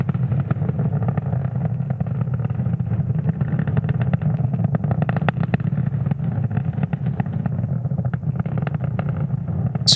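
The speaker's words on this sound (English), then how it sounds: "the M1D engines on the first stage are about to throttle down in preparation for max Q" SpaceX Falcon 9 rocket's Merlin 1D engines roaring during launch, a steady dense rumble heard at a distance, rough and crackling throughout without pause, with no talking.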